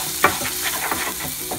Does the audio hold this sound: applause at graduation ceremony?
no